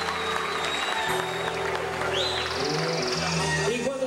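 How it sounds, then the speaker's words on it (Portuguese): Party guests at a 1998 anniversary celebration for the Pousada do Rio Quente resort applaud, a continuous wash of clapping that stays steady throughout, with voices talking and calling over it. "Uma salva de palmas à pousada do Rio Quente Resort."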